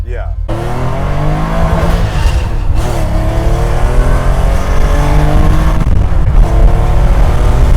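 A 1973 Porsche RSR race car engine running loud and close throughout, its pitch climbing and falling with revs, while people talk over it.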